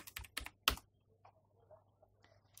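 Short bursts of code being typed on a computer keyboard, a quick run of sharp, close key clicks at the start followed by quieter scattered taps, with no voices.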